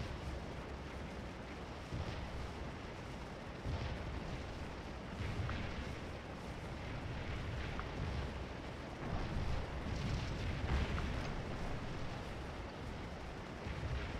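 Canister shot and artillery fire in the Civil War game Scourge of War: Antietam, with Union troops at the East Woods: a steady dense rumble of distant cannon blasts and musketry rolling on throughout, with no speech.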